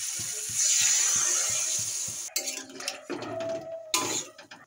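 Water is poured into a pan of frying cauliflower and rui fish curry, starting with a loud rushing hiss and then giving way to clattering of utensils and bubbling, all close and with no speech.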